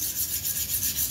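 Steel from a lawn mower blade being sharpened on a blue corundum #240 whetstone, steady rhythmic rasping strokes back and forth, loud and close, with no voices.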